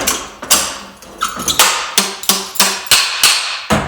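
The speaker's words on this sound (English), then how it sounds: "I always like to drive the bushing and the washer down in there first" A hammer or driver strikes repeatedly while seating a bushing and washer into a KTM WP Xplor motorcycle fork, a close series of about nine sharp metal-on-metal blows in a steady rhythm.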